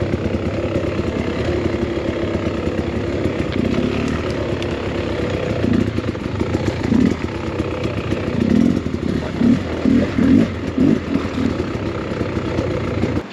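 A Beta X Trainer dirt bike rides along a riverbed, its engine a continuous low rumble with shifting throttle and rushing noise, moderately close throughout.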